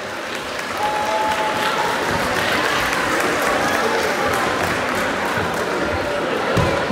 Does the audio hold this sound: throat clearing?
no